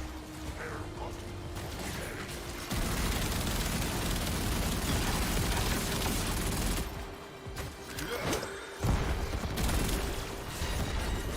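Grenades burst in a PC shooter game as a Kahl sneak build plays, a long roaring stretch of blasts and rumbling booms with clanking mechanisms, loud and sustained.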